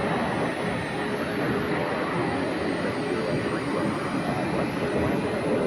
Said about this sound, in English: so apparently we have a heavy jet